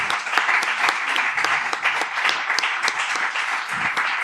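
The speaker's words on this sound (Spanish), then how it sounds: "Y sí, aplaude, porque creo que se lo merecen." An audience applauds a panel after a talk on the transmission of intangible cultural heritage. The clapping is steady and fairly soft, held at an even level throughout with no voices over it.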